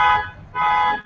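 Car alarm going off in two loud, sustained electronic tone bursts with a short dip between them, heard alone with no talk.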